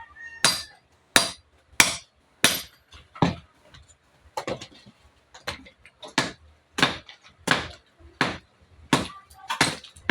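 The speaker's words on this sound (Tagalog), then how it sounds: "Grabe yung trabaho natin guys. Pukpok sa bato." A hammer pounds on stone in steady, sharp, evenly spaced strikes, about a dozen in ten seconds. The blows are close and loud with quiet gaps between them during outdoor manual labor.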